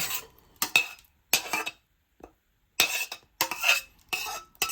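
Metal utensil scraping and clinking against a pan and plate as cooked sauce for homemade pizza is transferred, in several short close bursts separated by silence.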